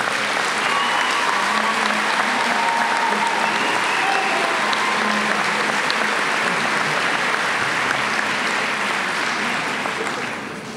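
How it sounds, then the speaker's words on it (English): A large graduation crowd at the University of Northwestern Ohio ceremony claps loudly and continuously, a thick wash of applause that barely varies before easing off slightly at the very end. "Let's give them a round of applause."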